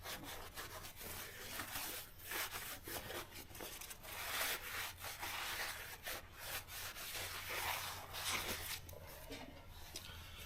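A Cummins crankshaft journal with a small blemish is rubbed clean by hand, a steady close scrubbing and rasping that runs unbroken in quick back-and-forth strokes, with no talk.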